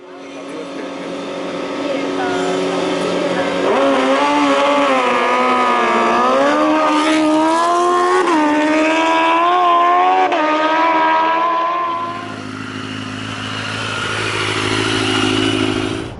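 A 2005 Kawasaki ZX10R Ninja sport bike accelerates hard, its engine note climbing steadily in pitch through the revs, loud and close, then easing off near the end; a voice talks over it.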